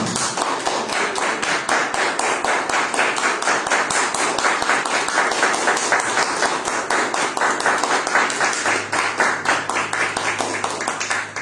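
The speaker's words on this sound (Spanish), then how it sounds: "Den un aplauso, Señor." A church congregation at a Sunday service claps steadily and rhythmically, a dense, even beat of many hands continuing without pause.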